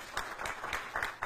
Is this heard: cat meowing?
no